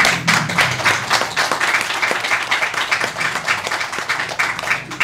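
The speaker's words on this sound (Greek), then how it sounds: "θα ήθελα ένα χειροκρότημα καλό" A crowd claps warmly at a local event on Chios, a sustained, fairly loud wash of many hands that carries on evenly throughout without a break.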